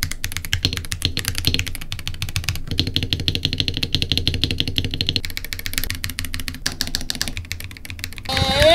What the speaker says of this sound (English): this is probably the best sounding keyboard that I've ever had